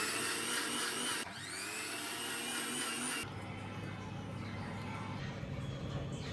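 Electric grinder pulverizing roasted garam masala spices, a loud, harsh motor whine that runs continuously, dips and shifts pitch partway through, then carries on with a rougher grinding tone.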